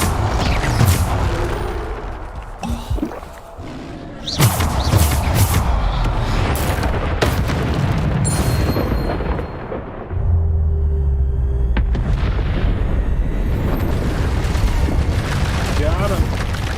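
Repeated booming blasts and crashing impacts from Bombarda spells in the wizarding game Hogwarts Legacy, loud and dense, with layered combat effects and game music throughout.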